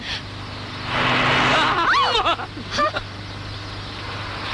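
A car starts up and pulls away in a 1983 Hindi romantic film scene, engine noise swelling loudly then dropping off, with voices briefly heard over it.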